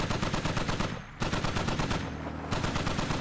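Rapid automatic gunfire from soldiers returning fire in the Squad military shooter game, dense overlapping bursts that continue throughout with a brief lull near the middle, loud and close with no talking.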